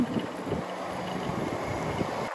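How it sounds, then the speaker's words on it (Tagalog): Strong wind buffets the microphone in a continuous low roar during an uphill ride at Sambong, steady and blustery, with no voices. "Ang lakas naman ng hangin."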